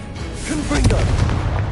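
A Confringo blasting spell goes off in the Hogwarts Legacy video game as a loud, booming burst with a rumbling tail, mixed with a voice and ongoing combat noise.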